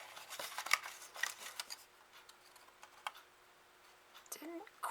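Scissors trimming a small paper card cutout for a window easel card, giving a few quiet snips and crisp paper clicks up close with faint rustling between them.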